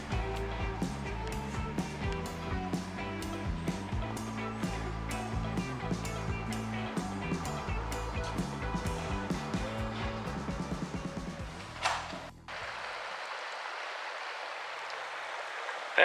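A creek running full after a burst of rain; a steady broadband rush of water comes through clearly and alone for the last few seconds, after music fades out.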